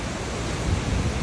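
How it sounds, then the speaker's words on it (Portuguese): Torrents of water roar steadily from the burst Sobradinho dam on the São Francisco river in Brazil, a dense, continuous rushing wash with no voices. "Olha o tanto de água que tá saindo, ó."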